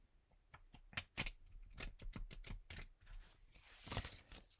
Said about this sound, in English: then I'm gonna shuffle them one last time